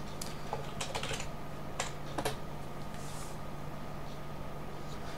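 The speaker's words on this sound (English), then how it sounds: "now I can actually type in the username I had chosen" A username typed on a computer keyboard at a Linux login screen, a few quick bursts of close key clicks with pauses between, over a steady faint hum.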